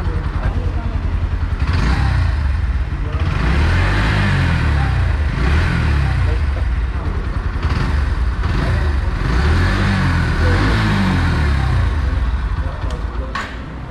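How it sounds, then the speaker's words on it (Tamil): A Bajaj Pulsar NS 125 motorcycle exhaust rumbles loudly up close, revving repeatedly in rising and falling surges over a deep idle. "இப்போ நம்ம வாங்க இந்த எக்ஸாஸ்ட் நோட்டை கேட்டுடலாம்"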